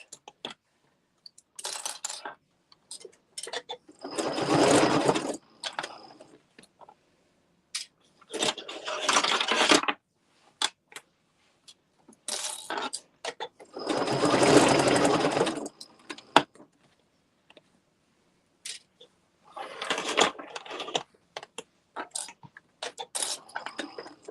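A sewing machine stitches a Luxe Cuddle fair isle wrap along the curved neckline, running in four or five distinct bursts of rapid, close stitching separated by quiet pauses.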